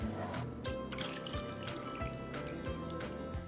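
Red eye gravy from pan-fried country ham is poured off from the pan, giving a close liquid trickle and dripping with small splashy bursts repeating about every half second.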